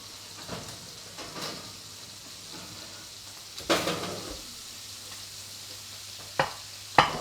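Steak cooking in a hot pan, a quiet steady sizzle running underneath, broken by a few sharp metallic clinks and scrapes of utensils against the pan.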